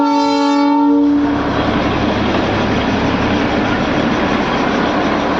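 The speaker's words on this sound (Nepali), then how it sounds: "रेलवे स्टेसन हो, रेल जाँदैछ, ट्रेन जाँदैछ," Darjeeling toy train passing a station, opening with a long horn blast that gives way to a loud, steady rumble and rattle of the carriages rolling by close at hand.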